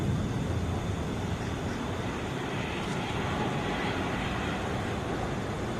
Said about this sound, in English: That was Frontier with Cubby the Bear livery that we just saw roll by.